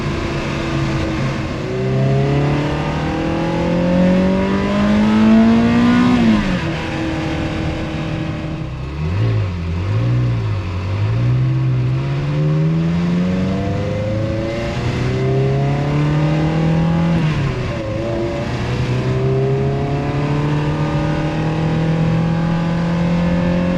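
A Ferrari 360 sports car engine while driving, a loud, close engine note that climbs through the revs, drops at gear shifts, and repeatedly rises again with a throaty buzzing tone, alone without talking.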